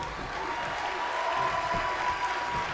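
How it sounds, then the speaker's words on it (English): Crowd at a live wrestling show cheering and applauding steadily throughout, a dense continuous roar with no clear talk over it. "it looks like the crowd is getting into this"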